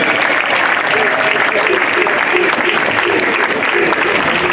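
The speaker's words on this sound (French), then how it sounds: "Et on applaudit bien fort Iris," Loud, dense applause from a talent-show audience on an amateur singing night, steady and sustained throughout with no break or pause in the clapping.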